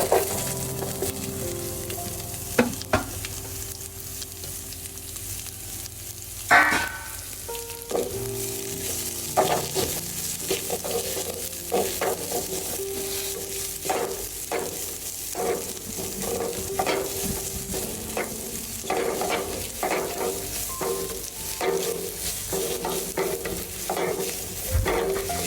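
Sliced onion sizzles in a hot pan for a chicken stew, a continuous frying crackle close by, punctuated by repeated spoon scrapes and knocks as it is stirred.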